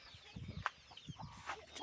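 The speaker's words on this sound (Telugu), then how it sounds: "మా కోళ్ళు అన్నమాట అవి." Backyard chickens at a village home with vegetable plants give a few short, soft clucks and calls at a distance, quiet and scattered over a low background.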